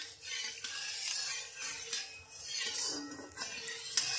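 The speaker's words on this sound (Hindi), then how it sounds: "मैं अभी एक भुजी बना देती हूँ, तेल ज़्यादा पड़ गया है अंधेरा में" A spoon stirs and scrapes vegetable bhujia in a kadhai with plenty of oil, giving close metallic scrapes and clinks over a soft sizzle, with no talking.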